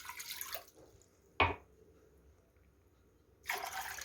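Water pours into a pot to make syrup for basbousa, in two short splashing bursts at the start and end, with a single sharp clunk between and quiet gaps.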